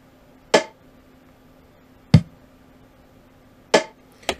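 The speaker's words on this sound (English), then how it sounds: "Kick, snare, kick, snare. Little roll at the end of the four." A very simple drum beat on its own: four sparse, sharp hits spaced about a second and a half apart, kick and snare alternating, ending with a quick extra hit like a short roll.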